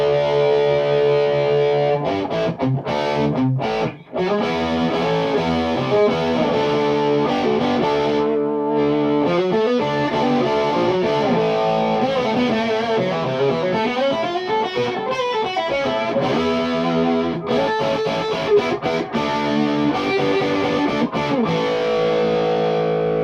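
Electric guitar played through a Metropoulos Metro-Plex amplifier using the low input jack, a sustained, moderately driven tone with chords and melodic lines ringing out loud and alone.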